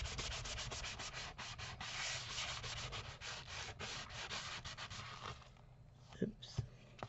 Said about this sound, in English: So I'm going to sand it a little bit.